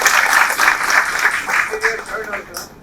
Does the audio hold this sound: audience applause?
yes